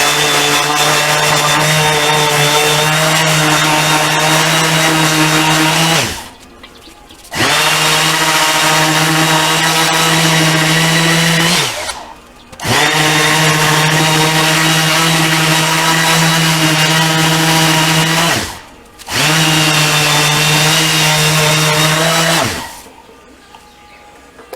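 Loud, continuous power sander grinding deep pit marks out of brass at home, running in long steady bursts with three brief pauses between them.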